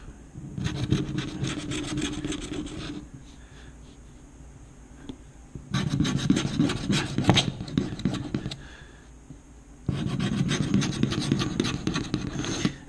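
A California lottery scratch-off ticket is rubbed and scraped in three firm bursts separated by short quiet pauses, a close, dry, rasping scratch with no talking.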